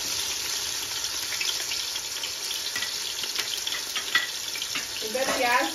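Chopped onions dropped into hot oil with whole spices (bay leaf, cinnamon, cumin) for chicken tahari, giving a steady close sizzle and hiss with light stirring scrapes that swell in the final second.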